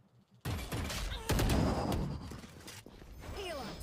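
Gunfire in a Valorant match at a pro esports championship, dense rapid bursts and mechanical clatter close up for a few seconds, pausing briefly, then resuming more lightly.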